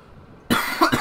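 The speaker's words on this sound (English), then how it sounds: "Sorry, I'm coughing a lot." A single harsh cough from a sick person bursts out after a moment of near silence, followed by a second rough hack close to the microphone.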